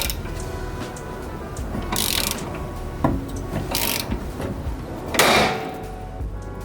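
A ball joint puller is tightened on an S14 240SX car's suspension, giving a few clicking ratchet strokes and metallic clanks with brief bursts of louder mechanical noise, close by and without talk.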